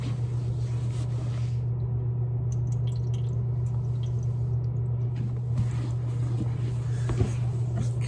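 Water trickles and drips steadily from a Bosch dishwasher showing an E-24 fault code into a shallow tray, close up, over a constant low mechanical hum.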